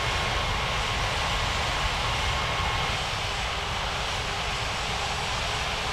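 A flight video game airliner on approach to land, its engine roar a loud, steady, unbroken drone that holds for the whole stretch with no voices.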